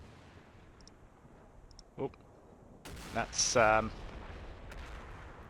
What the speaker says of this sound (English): we do hear some explosions. There are some spotting rounds coming in on this wood